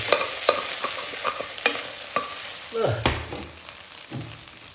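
Egg fried rice stir-fried in a pot rather than a wok: steady sizzling with repeated sharp scrapes and clinks of a utensil against the metal, close and fairly loud, with no talking.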